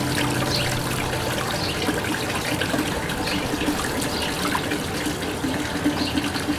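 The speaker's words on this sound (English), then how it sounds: "I recommend getting the faucet because it makes it handy to rinse off your fish and get them cleaned up" Water runs from a faucet onto a fish-cleaning table as trout are rinsed, a steady hissing splash that stays at an even level throughout.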